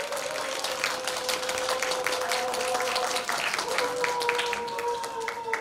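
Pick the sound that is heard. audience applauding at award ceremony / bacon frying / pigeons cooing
audience applauding at award ceremony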